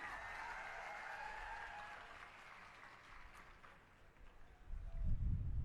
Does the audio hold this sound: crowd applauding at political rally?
yes